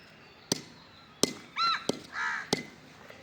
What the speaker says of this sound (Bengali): পাখি ডাকে, কাক ডাকে,